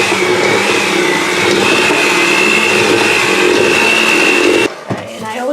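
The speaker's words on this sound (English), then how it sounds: "so the powdered sugar doesn't fly out when I put the mixer in" An electric mixer runs steadily and loudly, blending powdered sugar into cookie dough for almond petticoat tails, with a sustained whir and a high pitched motor whine that cuts off near the end, leaving brief clatter.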